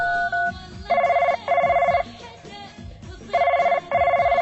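A telephone rings back after a number is dialed, sounding two pairs of bright double-ring tones with short gaps between them over a steady rhythmic beat.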